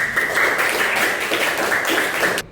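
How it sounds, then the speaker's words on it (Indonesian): Classroom audience applause, a steady burst of hand clapping from many people lasting a couple of seconds and stopping abruptly, fairly loud and close. "Tepuk tangan."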